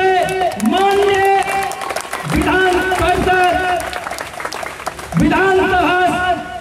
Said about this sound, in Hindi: तालियों से का स्वागत कीजिए।